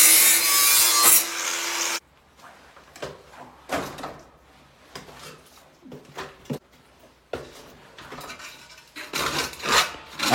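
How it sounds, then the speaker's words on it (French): Short bursts of a saw blade scraping burrs off a cut pipe, several rough strokes with pauses between, fairly close, following a louder cutting noise at the start. "Un petit coup de lame de scie pour enlever les bavures."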